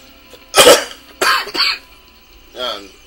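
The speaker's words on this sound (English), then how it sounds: "Sorry if I'm coughing a lot in this episode." Three bursts of coughing and throat clearing from a man suffering allergies, spaced over a few seconds, close and fairly loud, with no other talk.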